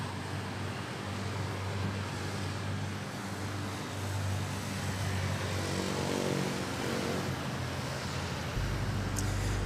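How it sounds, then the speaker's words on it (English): A China Southern airliner taxis toward runway 06 at Manila Airport, heard as a steady, moderately distant jet engine drone and rumble that holds evenly throughout, with a low roar swelling slightly near the end. "And we have also this China Southern making its way to runway"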